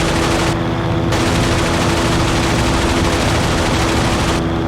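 Sustained machine gun fire from WWII aircraft in IL-2, several guns firing at once in a dense, continuous loud rattle with a brief pause, heard alone without talk.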